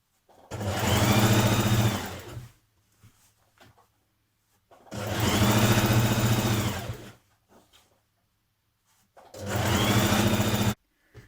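A sewing machine runs in three loud bursts of a few seconds each, stitching a dress side seam up close, with quiet pauses between runs.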